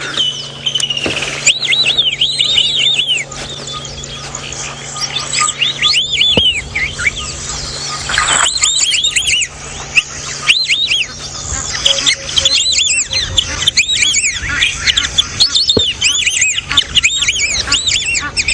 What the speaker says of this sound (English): So that was the white-faced whistling duck and the Egyptian goose.